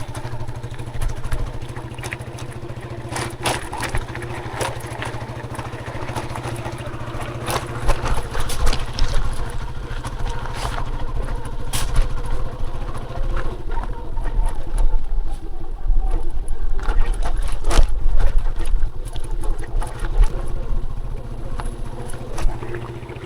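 A motorcycle engine idles and revs beside a river in the Philippines, a steady low drone rising and falling over about twenty seconds with clattering and rougher bursts as it moves off.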